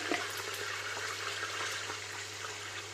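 Ginger garlic paste sizzling in an Instant Pot Duo pressure cooker, a steady close frying hiss with faint crackle and a low hum underneath.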